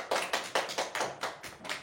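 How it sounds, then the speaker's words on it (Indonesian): A short burst of hand clapping from a classroom group, quick uneven claps close by, with no voices over it. "Tepuk tangan untuk semuanya."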